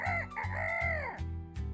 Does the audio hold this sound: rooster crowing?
yes